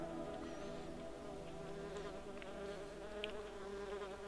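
A fly in the video game Fly Simulator 2016 buzzes continuously while flying through a forest, a faint, steady drone with no voices.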